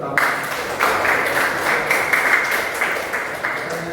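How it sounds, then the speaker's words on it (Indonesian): A room of participants at a teacher-training presentation breaks into sustained applause, an even, dense patter of many hands that stays fairly loud for the full few seconds. "Tepuk tangan untuk bantu kami."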